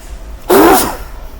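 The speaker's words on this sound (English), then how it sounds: "I think I'm going to sneeze" One sharp, explosive human sneeze, close and loud, bursts out of near silence and fades quickly.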